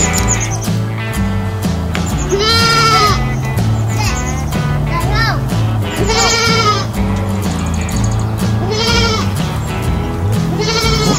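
A milked goat bleats several times in wavering, nasal calls while milk is collected in a bucket for making panela cheese; the bleats ride over steady background sound and nearby voices.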